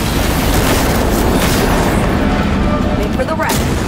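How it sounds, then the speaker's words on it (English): A loud explosion goes off during a combat scene in the video game Cyberpunk 2077: Phantom Liberty, filling the space with a dense, sustained roar and rumbling debris under gameplay noise. "Hit the ground, it's gonna explode!"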